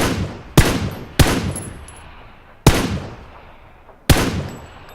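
Four loud, sharp single gunshots in PlayerUnknown's Battlegrounds ring out at irregular spacing, each followed by a long decaying echo tail, close and alone with no talking.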